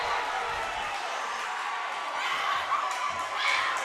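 A high school basketball crowd at Baxter Springs Lions vs. Frontenac Raiders roars after a dunk, a dense, sustained wash of cheering and shouting that fills the gym, with a commentator's voice riding over it.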